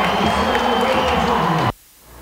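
A Brazilian football crowd cheering an Imperatriz goal in a 4–0 match, a loud, dense roar of voices that holds steady and then cuts off abruptly near the end.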